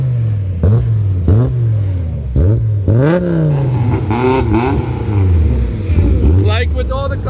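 A classic race car engine revving hard, with repeated rising and falling throttle blips in a loud, raspy burst, close by and mostly alone, with brief talk in the background.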